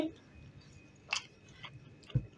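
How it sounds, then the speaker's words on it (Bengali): Someone chewing fried mustard-sauce fish at a home dinner, a few soft, sparse mouth sounds and a small bite close to the microphone, quiet with no talk. "এটা শুধু আমি ছিঁচ্ছি আর খাচ্ছি"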